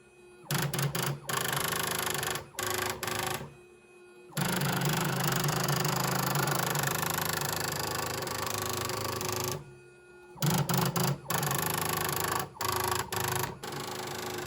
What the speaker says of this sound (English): I can now print to this 40-year-old daisy wheel printer via the network